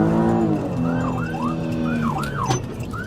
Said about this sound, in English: The patrolling officer gives chase and turns his sirens on, but Shawnee doesn't stop